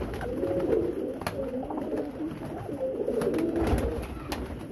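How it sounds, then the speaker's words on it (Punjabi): Highflyer pigeons kept for sale in Faisalabad coo continuously in a low, bubbling chorus close by, punctuated by a few sharp clicks and taps. "ਉੱਡੇ ਉਡਾਏ ਪ੍ਰਵਾਦੀ ਕਬੂਤਰ ਆਏ ਨੇ"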